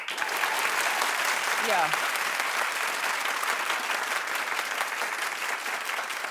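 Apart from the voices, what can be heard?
studio audience applauding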